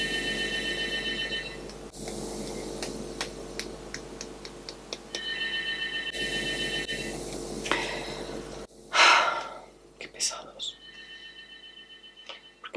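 A home landline telephone rings in repeated bursts of electronic trills separated by pauses, fairly close, followed by shuffling and handling noises, with a person speaking at times.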